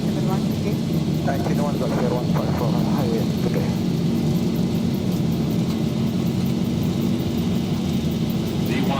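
United Airlines Flight 1211, an airliner leaving Houston for Atlanta, roars loud and steady with its jet engines at takeoff thrust, while cockpit voices speak briefly over the din.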